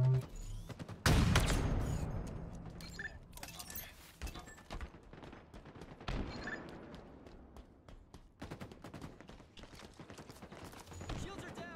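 Gunfire rattles through a Halo match, opening with a heavy burst and followed by scattered shots and rapid volleys of varying loudness over several seconds.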